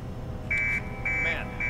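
Alarm going off in a Hitman game, repeated high electronic beeps in three short bursts, moderately loud over a low background rumble, with voices nearby.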